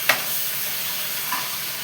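Curry frying in a pan with a steady hiss, broken by two short stirring scrapes, one near the start and one toward the end. No voices.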